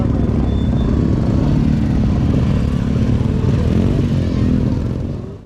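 Motorcycle engines at a bike show in Rainaskot rumble loudly and steadily at close range, a dense continuous drone that fades slightly at the very end.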